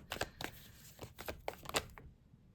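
Tarot cards being shuffled by hand, a quick series of crisp riffling bursts in an uneven rhythm, fairly quiet and close, ending in silence.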